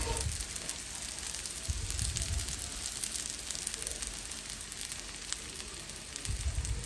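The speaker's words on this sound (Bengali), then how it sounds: "এখন আমি এই বেরেস্তাটা চিকেনের মধ্যে ঢেলে দেবো।" Fried onions poured into a pan of simmering chicken crackle and sizzle in a steady hiss, with a few soft clatters over the continuous frying noise, no talk.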